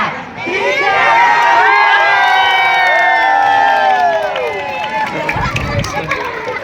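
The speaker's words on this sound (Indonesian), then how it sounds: "Hitungan ketiga sambil kita teriak ya" Crowd shouting and cheering together on a count as doves and balloons are released, loud massed voices and whoops swelling at once, holding strong, then thinning into scattered chatter.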